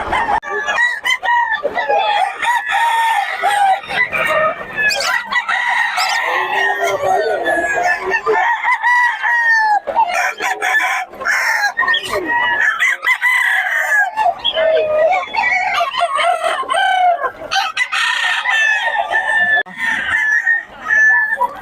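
Kelso gamefowl roosters crow again and again at an outdoor market, loud, close, overlapping calls that carry throughout, with clucking and people talking in the background.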